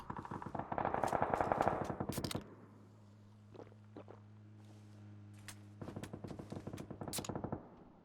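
Rapid bursts of automatic gunfire in the video game PUBG, loud and close, separated by a quieter stretch with an engine drone and scattered single shots.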